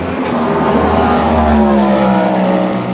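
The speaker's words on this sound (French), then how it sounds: "la Ferrari qui passe plus vite ou pas que la BMW" Ferrari race car at Le Mans during the 24 Hours hyperpole session, a loud steady engine roar with a sustained droning tone that shifts slightly in pitch as the car passes.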